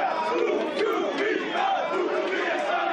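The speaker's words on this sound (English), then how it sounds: "Local crowd, Slapwick crowd shouting after Brooke." A local crowd at a K1-rules kickboxing fight night shouts and roars in a continuous, loud wall of mixed voices, rising and falling slightly while staying dense and indoors-sounding throughout.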